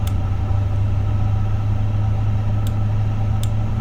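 Airbus A350 engines spool up in a flight simulator, a steady low droning hum with a constant tone, loud and unbroken, a few faint clicks on top, no voices.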